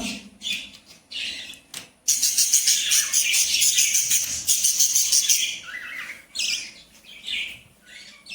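Budgerigars chirp in bright, high twittering bursts, close and fairly loud. A dense run of overlapping calls sits between short pauses and scattered single tweets.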